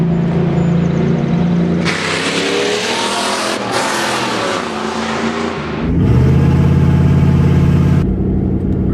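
A 1997 Jeep Grand Cherokee Limited (ZJ) engine hums and rises as the car is driven through a valley, with loud, steady engine noise that shifts pitch with the gear changes and road noise, and no voices.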